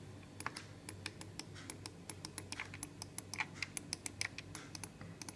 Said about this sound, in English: the buttons on the controller, I really love this because it's kind of like a mouse click